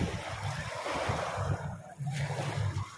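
Sea waves rolling onto a windy beach at Lobo, a broad rushing wash of surf mixed with gusty wind buffeting the microphone, loud and continuous.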